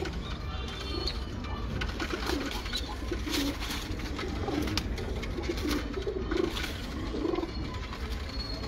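Pigeons of the Teddy Salara breed cooing in a breeder's loft, repeated soft throaty coos overlapping in a continuous murmur at close range, with no talk.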